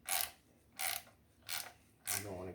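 A ratchet tightening an intake bolt during an intake install gives four quick, close clicking bursts with short pauses between strokes, fairly quiet overall.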